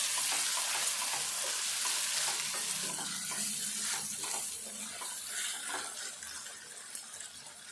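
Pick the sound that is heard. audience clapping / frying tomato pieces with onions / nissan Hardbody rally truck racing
frying tomato pieces with onions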